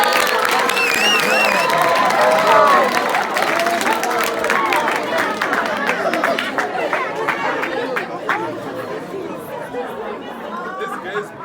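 A rural youth audience claps and cheers in a burst of applause mixed with crowd chatter, loud at first and gradually thinning out, with a speaker's voice over it.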